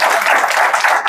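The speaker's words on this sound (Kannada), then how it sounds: "ಇದಕ್ಕೆ ಎಲ್ಲರೂ ಕೂಡ ಚಪ್ಪಾಳೆ ತಡಬೇಕು ನೀವು." A short, loud burst of dense applause fills the hall at an enrollment camp event for disabled people. Many hands clap together without any gaps.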